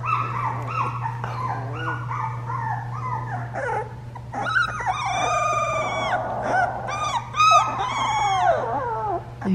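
Several fox red Labrador dogs yip, whine and howl noisily close by in an excited, overlapping chorus that grows busier toward the end, over a faint steady hum.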